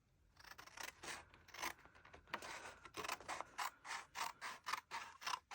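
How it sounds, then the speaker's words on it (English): Scissors cutting paper along a straight line for a scrapbook page, a quiet series of crisp snipping strokes repeating in a steady rhythm, close and faint, with no talking. "So I'm just going to cut along this top line."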